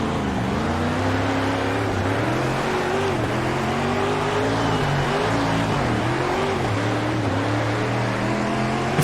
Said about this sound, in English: I like that sound. The idle sound.